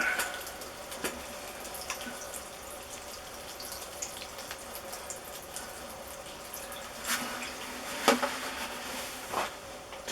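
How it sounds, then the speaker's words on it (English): Water pours and trickles from a watering can onto herb garden plants, a soft steady splashing with a few louder bursts near the end, alone without talk. "now what I do is I got a watering can here."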